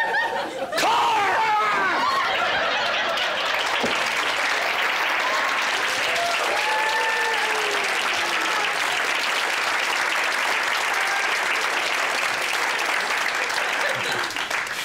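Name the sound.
audience applause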